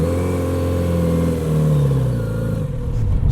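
Kawasaki Z90 motorcycle engine revving on a ride through Big Bend National Park, a steady loud drone whose pitch climbs and then falls back, continuous throughout with no talk.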